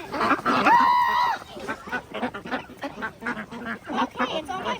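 Ducks at a birds of prey centre quack close by in a loud, drawn-out honking call followed by softer scattered quacks, mixed with people talking nearby.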